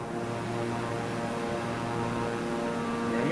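A Beechcraft propeller aircraft engine drones steadily and evenly in a flight simulator game, a loud continuous hum with no voices.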